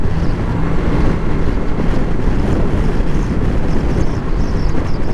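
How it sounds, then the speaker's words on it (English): Strong, steady wind buffeting the microphone on a BMW G310GS motorcycle ride along the coast at West Bay, a loud continuous roar with no voices. "It's windy."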